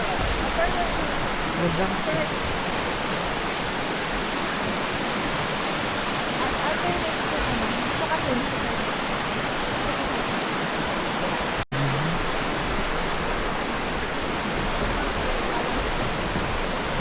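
Waterfall at Cedar Falls in Bukidnon, a steady, loud rush of free-flowing water that fills the whole clip as a dense roar, with a brief dropout near the end and a person speaking faintly over it.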